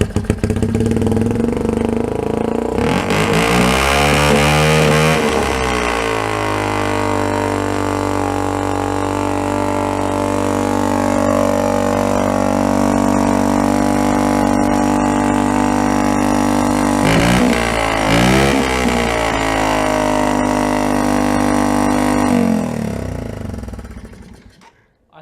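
A cold engine started with starting fluid cranks, catches and settles into a loud, close idle, then blips in a rev partway through before the running sound fades out at the end.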